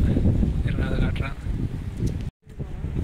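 Strong, cold wind blows outdoors on a street in Canada, rumbling steadily into the microphone in low buffeting gusts, with a brief dropout near the end.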